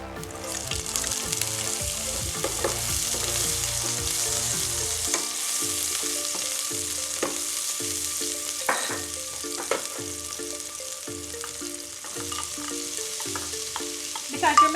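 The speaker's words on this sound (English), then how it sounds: "in our pot here now, we're going to saute some scallion" Chopped scallion sautés in a hot pot, a steady crackling sizzle with repeated stirring scrapes, with no talk over it.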